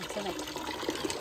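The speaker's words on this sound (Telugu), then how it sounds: "వచ్చినాయా ఏ నీళ్ళు." Water runs from a newly installed wood-fired water heater in a village home, a steady close trickle and pour with a voice speaking over it.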